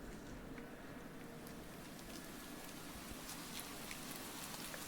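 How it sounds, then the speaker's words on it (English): Rain falls steadily in the video game Do NOT Take This Cat Home, a faint, even patter of drops with no voices. "But in the middle of your walk it starts to rain."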